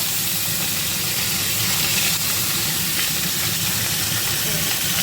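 Parshe fish frying in hot oil in a wok, a loud, continuous hissing sizzle held steady and close from start to finish.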